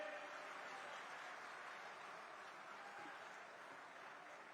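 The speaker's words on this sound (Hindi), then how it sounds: "जोरदार तालियों के साथ स्वागत करें।" A crowd at Home Minister Amit Shah's Sirsa Lok Sabha election rally gives steady, distant applause that holds evenly throughout, heard faintly and without talk on top.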